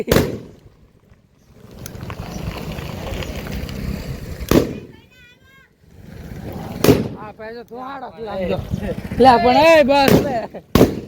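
Loud Diwali firecracker bursts pop at irregular intervals, with crackling noise between them and people talking and shouting over the din.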